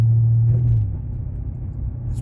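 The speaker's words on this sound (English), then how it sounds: "I know I'm in the car and it's loud" Steady low rumble inside a moving car, loud and continuous, with a stronger low hum at the start that eases off after a moment; no talking.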